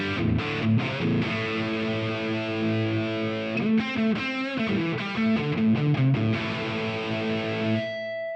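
Distorted electric guitar played through a Quad Cortex Marshall Brit Silver amp model and matching Brit Silver B 70 cabinet, with sustained overdriven chords and a burst of fast choppy strums midway, ringing out before cutting off at the end.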